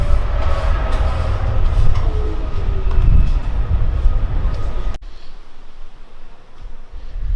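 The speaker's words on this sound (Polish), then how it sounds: "Czekamy na pociąg gdyż przyszliśmy akurat tak, że... Że odjechał." A train rolls loudly through a railway station in Tuscany, Italy, a close rumbling roar with squeal and rattle that drops away abruptly partway through.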